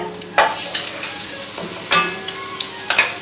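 Wild-caught shrimp sizzle and crackle in hot olive oil with salted garlic, a steady frying hiss broken by a few sharp bursts as they are stirred in the pan.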